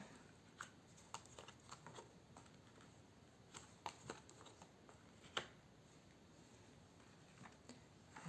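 Soft, irregular riffling and light clicks of playing cards being shuffled close by during a card reading, a quiet patter of small taps spread across the clip with no talking.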